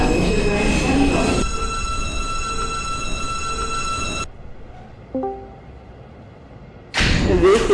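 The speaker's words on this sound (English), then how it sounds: "This is a Queens-bound R train via the F 2011 line." An R subway train in the openBVE simulator rolls along on the way to Forest Hills, with steady motor hum and wheel whine, a drop in noise, a brief squeal and thump, then loud running resumes.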